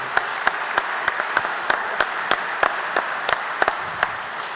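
Audience applause at a conference award ceremony, steady clapping close by with several sharp, louder individual claps standing out over the dense wash.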